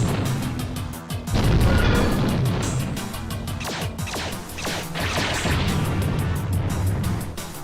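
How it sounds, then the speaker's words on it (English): A chaotic run of loud video game explosions and crashes, one blast after another over a constant rumbling din, with no talking. "Could also just be random explosions not resetting."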